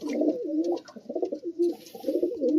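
Racing pigeons coo softly in a steady run of low, rolling calls, close by, while being stamped before a tournament.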